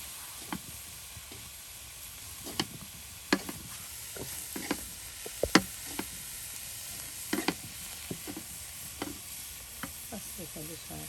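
Mixed greens with drumstick leaves are tempered and stir-fried in a village Bengali kitchen. A constant sizzle runs beneath sharp, irregular clinks and scrapes of a spatula against the pan, close up and with no voices.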